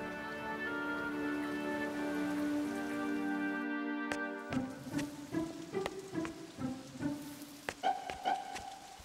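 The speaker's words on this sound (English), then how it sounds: "It rained and rained like it would never stop." Steady rainfall as a sound effect in a children's story of Noah and the ark, soft and continuous, joined midway by gentle plinking drips and tones.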